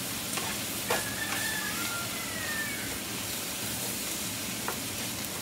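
Cabbage with bacon and butter fries in a pan with a constant close sizzle, a few light stirring scrapes and clinks over the top, and no one speaking.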